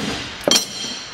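Flat pieces of steel kept in a tool box drawer clink together once, a single short, bright metallic strike close by against a steady background hiss.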